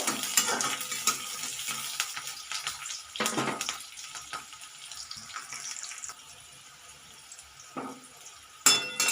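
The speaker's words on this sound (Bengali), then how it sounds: "পেঁয়াজগুলো দেওয়ার পর একটু নাড়াচাড়া করে নেব" Chopped onions stir-fried in a pan for a cauliflower chilli dish, with scraping spoon strokes and bursts of sizzling that come and go, loudest at the start and in a sharp burst near the end.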